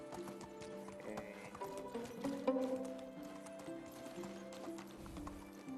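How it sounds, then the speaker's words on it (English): Horse hoofbeats while riding in the medieval video game Medieval Dynasty, a steady clip-clop under background music and a whinny, fairly quiet throughout. "Yeah, I just ride the horse there."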